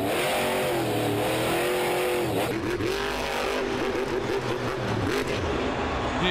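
A freestyle motocross motorcycle engine revving hard at an event, loud buzzing whine rising and falling in pitch as the throttle is worked, with crowd or arena noise underneath.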